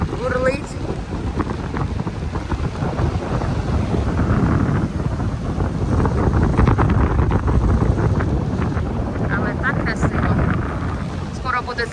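Strong Indian Ocean surf and gusting wind roar on the shore below a Sri Lankan beach resort at Hambantota, a dense, continuous wash with buffeting wind on the microphone and faint voices underneath.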